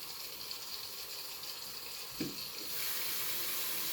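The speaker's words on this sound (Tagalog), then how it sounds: "Lagyan natin ng tubig." Tap water running steadily from a faucet into a container for watering orchids, a constant hiss that grows a little louder and fuller partway through as the flow or fill changes.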